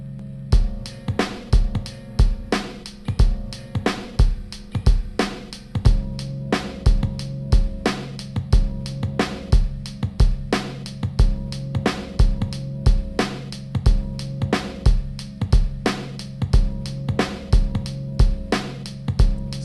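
A looped sampled beat plays back from a sampler with punchy drums and a repeating bass and chord pattern, steady and loud, without voices.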